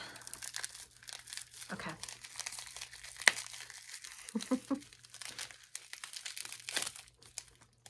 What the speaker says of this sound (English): Let me get my scissors because it is taped good.